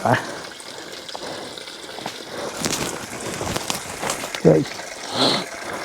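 Flowing mountain water at a campsite near Manali in Himachal Pradesh, a steady close trickling and splashing wash with someone talking over it.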